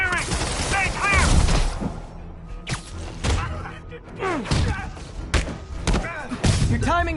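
Gunfire in a PS4 video game, with repeated sharp shots and thuds spread unevenly through the stretch, loud and close, mixed with game voices and effects.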